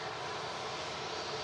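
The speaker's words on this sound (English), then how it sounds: "Ryanair just vacating the runway here from Milan." A Ryanair Boeing 737 Max 8200 jet from Milan taxiing off the runway at Manchester Airport, its engines giving a steady, broad, distant roar with no talk.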